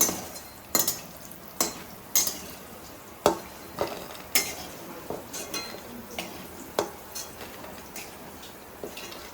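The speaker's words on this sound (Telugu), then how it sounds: "ఈ వడియాలు కూడా ఒక్కసారి వేసి తీసేద్దాము ఒక రెండు సెకండ్లు వేస్తే సరిపోతుందండి" Urad dal vadiyalu (lentil fritters) fry in hot oil with a soft sizzle beneath repeated metallic scrapes and taps of a spoon against the pan, fairly close and regular.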